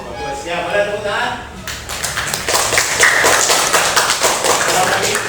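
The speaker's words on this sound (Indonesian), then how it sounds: "Boleh tepuk tangan." Classroom audience clapping hands together, a dense burst of applause that starts after a brief moment and carries on steadily to the end, with faint voices underneath.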